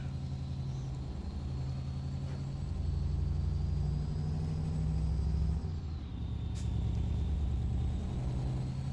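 A truck engine in Euro Truck Simulator 2 hums steadily with a low, continuous rumble, rising slightly in intensity midway before a brief dip and a return to a constant drone, with no talking.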